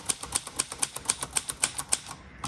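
Keys strike steadily on a 1961 Royal Forward travel typewriter, about ten crisp even clacks at a brisk pace, close and clear with no voices.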